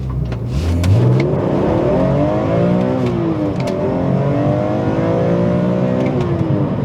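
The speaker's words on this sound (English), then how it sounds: "Driving the E46 M3." A BMW E46 M3 engine pulls hard while driving, its note climbing through the revs, easing briefly and then rising again in a second acceleration, loud and close from inside the car with no talk.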